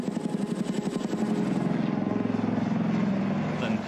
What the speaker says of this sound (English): The helicopters of President Trump leave Charleroi.